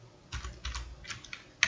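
Fast bursts of key presses on an old, partly faulty computer keyboard during a typing test, a few quick clusters of clicks close up and quiet, ending with a sharper keystroke.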